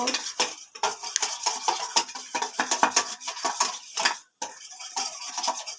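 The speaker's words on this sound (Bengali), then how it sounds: "ডিমটার মধ্যে দেওয়ার পরে তারপরে লবণ দেওয়া মিক্স লবণ দিয়েছি আগেই তারপরে যে করে ঘুটে নেব" Eggs beaten with salt in a bowl: rapid, continuous clicking strokes of a utensil against the bowl, close and fairly loud, with one brief pause near the end.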